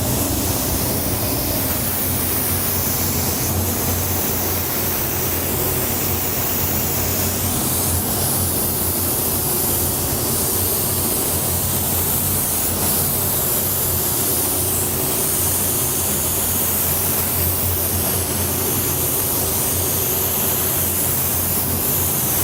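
A W400 spray gun with an LV WBX air cap hisses steadily at about 18 PSI while laying a fluorescent paint coat over a panel, a continuous airy spray with slight pulses as passes start and stop.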